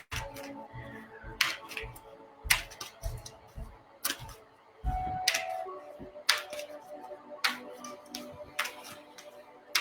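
A deck of cards being shuffled up close: scattered quick clicks and riffling snaps spread irregularly over several seconds, fairly quiet.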